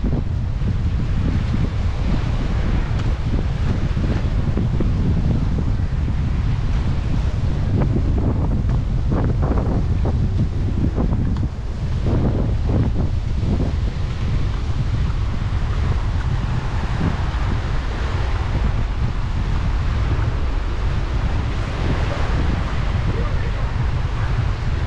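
Strong wind buffets across a beach in steady gusty rumbles, close and loud, with surf faintly mixed in and a voice speaking now and then beneath the noise.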